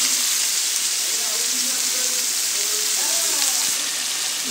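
Five medium onions sautéing in coconut oil with a pinch of salt for duck curry, giving a loud, steady, close sizzle with light stirring scrapes throughout.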